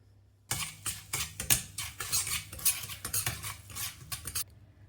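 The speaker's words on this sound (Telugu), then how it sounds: "ఇప్పుడు వీటన్నింటినీ 1 నిమిషం ఫ్రై చేసుకుందాం" Spices and eggs for a dhaba-style egg curry are stirred and fried in a pan, with a utensil repeatedly scraping and clinking against the metal in quick uneven strokes over a soft sizzle, close and fairly loud, without talk.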